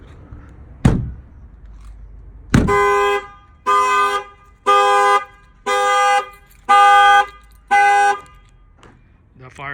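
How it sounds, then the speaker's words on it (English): Factory alarm on a Jeep Rubicon, set off by its window shock sensor, blares in six loud, evenly spaced horn honks after two sharp thumps on the glass. "That fired off the alarm."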